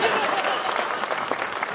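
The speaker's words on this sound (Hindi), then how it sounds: "जोरदार तालियां।" An audience at a public gathering in Godda, Jharkhand, breaks into loud, dense clapping that stays steady and close throughout.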